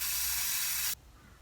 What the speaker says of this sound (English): I just put hairspray in my brow hairs.